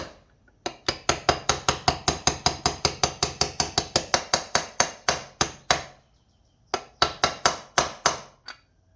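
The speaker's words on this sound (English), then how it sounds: "9/16 socket. Let's see if we can tap it on there." A 9/16 socket is tapped into place with a hammer: a rapid series of sharp metallic knocks, close and crisp, several dozen in quick rhythm, pausing briefly before a final short burst.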